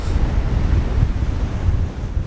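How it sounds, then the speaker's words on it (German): Stormy wind roars across the microphone while ocean waves surge onto the beach at Katwijk aan Zee, a loud, continuous buffeting rumble with no voices. "Also es ist echt stürmisch geworden. Ich drehe mich mal gerade hier. Schaut euch mal die Wellen an."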